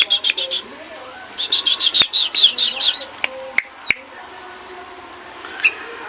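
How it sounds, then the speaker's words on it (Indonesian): A sooty-headed bulbul (kutilang) sings in short bursts of bright, repeated chirping notes, fairly close, broken by a few sharp clicks and knocks and then falling quiet. "Seperti kutilang saya ini nih, walaupun tidak bagus penampilannya, tapi isiannya sangat banyak nih."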